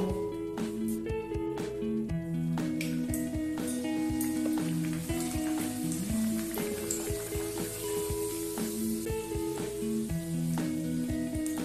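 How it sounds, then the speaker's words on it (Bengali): Matar kachori frying in hot refined oil in a kadai, a steady close sizzle and bubbling crackle that runs unbroken under lively background music. "এখন আমি কচুরিগুলি এখানে ভেজে নেব।"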